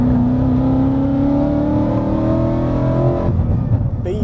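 A Ford Mustang GT engine in its loud exhaust mode holds a steady, throaty rev close by, rising slightly in pitch before dropping away near the end, with no talking.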